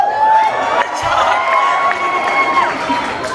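A convention audience at a John Wick panel cheers loudly, a dense crowd roar with whoops and shouts that stays steady throughout, filling a large hall.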